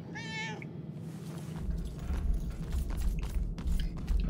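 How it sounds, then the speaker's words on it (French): A cat meows once, short and clear, in the video game Murdered: Soul Suspect. Low background noise and soft thuds follow, with no voices. "Bah, le petit chat, non?"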